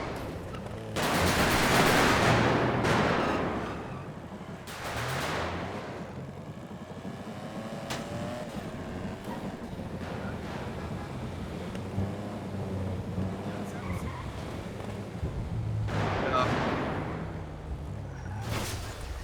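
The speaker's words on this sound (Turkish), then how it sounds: "Sadece tankla vuruyor buna." Heavy gunfire bursts in a roleplay video game, with a loud, rumbling volley at the start, then fainter, scattered shots and a low, steady background roar.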